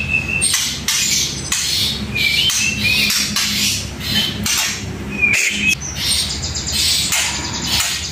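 A cage bird, an Indonesian 'tera sayur' (ordinary market-grade songbird), sings close by in a loud, busy stream of squawks, chirps and trills with short pauses, and no one speaks over it.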